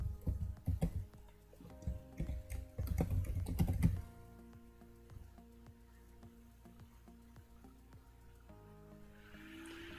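Laptop keyboard keys clatter in quick close bursts as an email address is typed, then the tapping thins out to a quiet room hum with faint scattered clicks.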